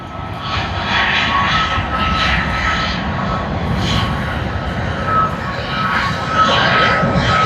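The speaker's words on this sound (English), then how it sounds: "Such a graceful departure. China Southern Airlines to Guangzhou." A China Southern Airlines jet departs Sydney Airport with a loud, sustained roar of engines, a broad steady rumble and hiss that stays strong throughout.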